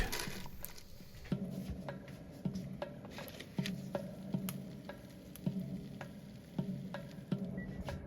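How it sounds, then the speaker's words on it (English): Unagi steam-grills with sake in a parchment-lined frying pan, giving a steady low sizzle and bubbling broken by regular soft pops and ticks. "placed the unagi inside, add 2 tablespoons of sake, and steam grilled it"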